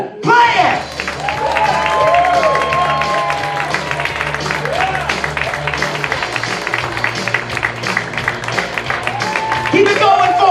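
An audience at a Las Vegas hypnosis show claps, cheers and laughs, a steady crowd noise with louder bursts at the start and end, partly under a voice and music.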